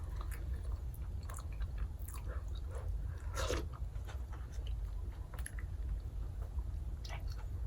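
Bread with sunflower seeds and sweet pumpkin baked inside being chewed close to the mic, soft steady mastication with a few sharper crunchy bites over a constant low hum.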